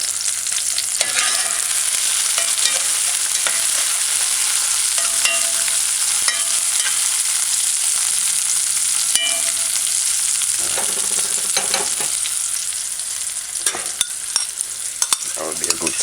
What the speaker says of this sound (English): I like my onion sauteed,